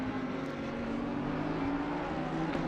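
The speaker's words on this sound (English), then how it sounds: "we can probably hear cars now" Race cars lapping Monza in the Assetto Corsa Competizione racing game give off a steady, continuous engine drone with a sustained mid-low tone, moderately loud and without speech.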